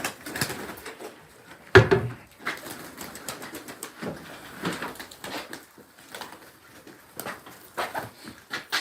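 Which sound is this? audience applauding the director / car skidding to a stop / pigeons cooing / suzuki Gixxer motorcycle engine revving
pigeons cooing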